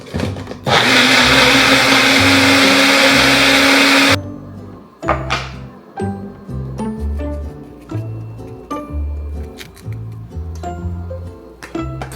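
A blender whirs loudly and steadily for about three and a half seconds while mixing a protein drink, then cuts off, followed by scattered glassy clinks and light knocks of a cup and utensils; no one speaks.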